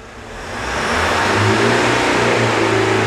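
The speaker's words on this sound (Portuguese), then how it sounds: "Essa aceleração é dessa Hilux aqui, ó." A Toyota Hilux diesel engine with a misfire revs up from idle and holds a loud, rough, steady roar close by, with no talking.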